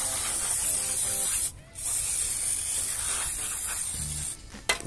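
Penetrating lubricant sprays in a loud continuous hiss onto a motorcycle sprocket retainer on a Rocketman 250, with a brief pause partway and a short final burst.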